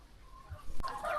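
Layer hens on a hygienic chicken farm cluck softly amid low barn noise, with a brief thump partway through and slightly busier calls toward the end.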